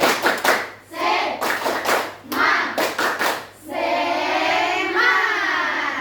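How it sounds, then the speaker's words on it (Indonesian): Children perform a rhythmic spirit clap in a classroom, sharp bursts of group hand claps in a patterned beat alternating with children's voices chanting loudly, ending in sustained shouting. "Ulang lagi ya sana, tepuk semangat."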